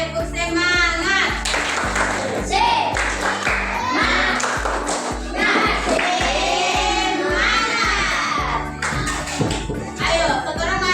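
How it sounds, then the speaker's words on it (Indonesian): Class of fifth-grade children doing a rhythmic spirit clap together, steady evenly spaced claps in a repeating pattern throughout, mixed with children chanting and shouting. "Tepuk semangat."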